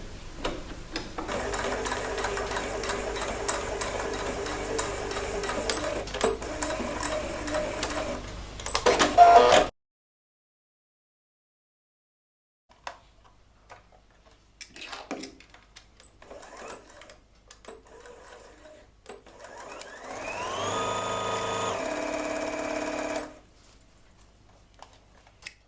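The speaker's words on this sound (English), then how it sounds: "I'm now going to stitch it onto the edge of the fold." A sewing machine stitches wrap pants along the edge of a fold with a close, rapid mechanical chatter for about ten seconds. After a quiet stretch with faint handling noises, a shorter run of stitching follows.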